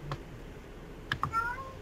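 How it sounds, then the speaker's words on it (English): A pet cat gives a couple of short, close meows with a rising tail, over a quiet room with faint background chatter and soft clicks. "You're having a conversation with your cat."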